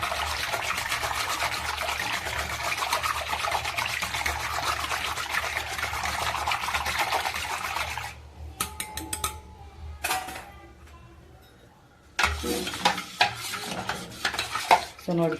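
Buttermilk is churned by hand in a vessel with a steady rhythmic swishing and sloshing for about eight seconds, then fades to a quiet pause before scattered clinks and stirring resume.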